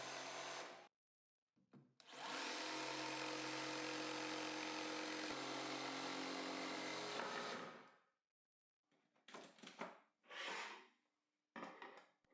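A power drill bores holes into a board for a router template insert, a long steady whining run followed by shorter bursts of drilling and cutting, close and loud with pauses between.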